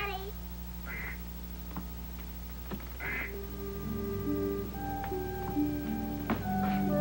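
A duck quacks several times, close and clear, with steady background music and a voice speaking between the calls.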